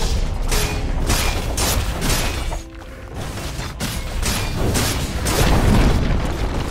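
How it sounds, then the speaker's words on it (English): A tower being destroyed in Dota 2, heard as a series of heavy booms and crumbling impacts with a short lull partway through before the rumbling picks up again. "Dire's bottom tower has fallen."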